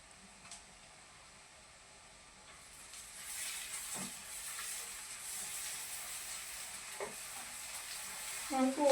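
Crushed ginger, garlic and green chili frying in a pan for veg biryani, a soft steady sizzle that swells after a few seconds, with a few light clinks of a stirring spoon.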